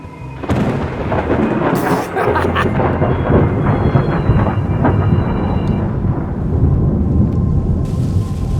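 Cannon fire in the adventure game Return to Monkey Island, a loud continuous booming roar with rumbling, crackling texture that fills the whole stretch after a sharp onset, with no talking.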